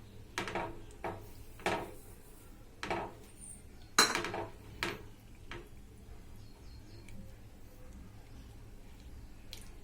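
A spoon scrapes and knocks against a pot while stirring semolina, in a slow, uneven rhythm with a few sharper clinks, close by and fairly quiet.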